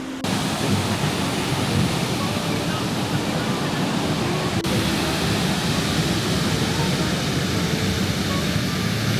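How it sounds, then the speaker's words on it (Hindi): Athirappilly waterfall in Kerala, a majestic falls, gives a steady, loud, broadband rush of falling water that holds evenly throughout with no voices heard. "this is the famous Athirappilly waterfall जहाँ पे मूवीज़ वगैरह सब शूट किए जाते हैं एंड इट इज़ मैजेस्टिक"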